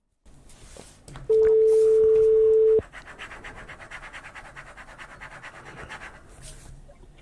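A phone dials out to a caller on a live French-language call-in radio show: a long steady tone, then a quick run of dialing beeps and a ringback pattern, close and clear, with no talk over it.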